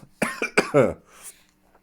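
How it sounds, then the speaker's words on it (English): A man coughs a few times in quick, harsh bursts close to the microphone, followed by a softer breathy sound as it trails off. "I'm just coughing"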